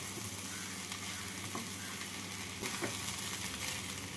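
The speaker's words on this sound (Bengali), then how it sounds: "কাজু কিশমিশ দিয়ে 2 মিনিট মতো ভেজে নেব।" Cashews and raisins frying with vegetables in a pan for flattened-rice pulao; a steady, dense sizzle hums close by, broken by a few soft stirring scrapes.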